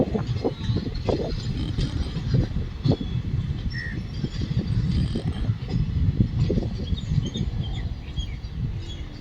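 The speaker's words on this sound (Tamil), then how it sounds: "முழுமையாக நாம் ட்ரெயின் போவதை பார்த்தோம்" A steady low rumble of a train rolling past, with faint bird chirps scattered above it throughout.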